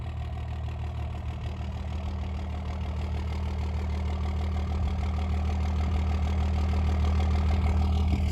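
A Cummins diesel truck engine idles steadily after a cold start, a loud, constant low rumble with a faint rhythmic knock and no voices.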